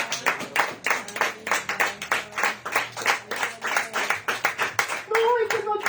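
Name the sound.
congregation applauding in church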